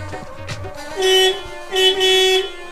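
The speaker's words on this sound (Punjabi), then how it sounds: "ਗੱਡੀ ਦਾ ਹਾਰਨ" Two loud, sustained car horn blasts, each about a third of a second, sounding close by after some brief background noise.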